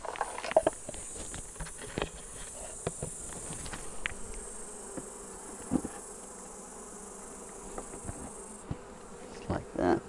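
Honey bees buzz around a Flow Hive as a super is added to the brood box, a steady drone with scattered close passes, light knocks and handling noises throughout.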